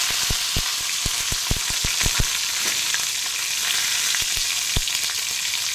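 Dried red chilies fry in hot oil with dal and asafoetida for a drumstick leaf and flower stir-fry, a steady close sizzle broken by sharp pops and crackles, with no voices.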